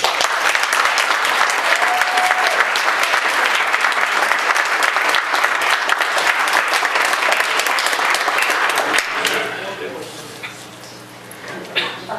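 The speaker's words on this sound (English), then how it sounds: "How about a round of applause?" Loud, dense applause from an audience fills the room for several seconds, then fades into scattered claps and murmuring voices.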